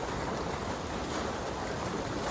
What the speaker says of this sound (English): A little opening into a melt creek right there